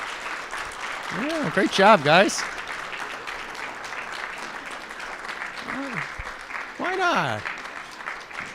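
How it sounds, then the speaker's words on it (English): An audience at a philanthropy forum applauds youth panel speakers with steady, moderate clapping. A person speaks over the applause in short bursts, and the clapping swells near the start and again near the end. "how about a round of applause for Sia and Nirmal?"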